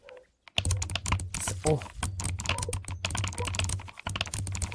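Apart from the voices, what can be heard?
keyboard keycaps clicking, ASMR unboxing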